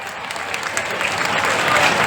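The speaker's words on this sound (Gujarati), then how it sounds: "તાળીઓ પાડજો એક વાર" An audience claps at a community gathering of the Rohit Samaj near Radhanpur, Gujarat, a dense burst of applause that holds steady and swells slightly toward the end.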